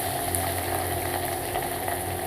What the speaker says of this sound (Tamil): கடுகு பொரிஞ்சது கடலைப்பருப்பு சேர்த்துக்கலாம். வெங்காயம் சேர்த்துக்கலாம்.